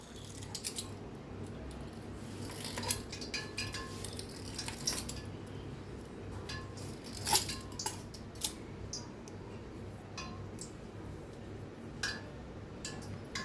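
Rolled shankarpali dough made from maida has its edges trimmed with a knife, giving faint scattered taps and light clinks of the blade against the board at an irregular pace in a quiet room.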